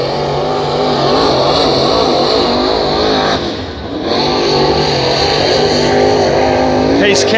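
A race car on a qualifying lap at Hattiesburg Speedway, engine roaring loud and steady with pitch rising and falling through the turns, briefly dipping before climbing again, while an announcer talks over it.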